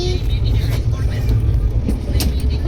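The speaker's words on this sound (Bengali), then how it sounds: "এখন আমরা ট্রেনে আছি" Continuous low rumble inside a moving passenger train during a family trip, with steady rolling noise and faint rattling; voices are heard in the carriage.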